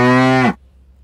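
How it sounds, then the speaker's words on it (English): A single loud, close cow moo, a short, tonal low call that stops abruptly, leaving near silence. "I see a cow,"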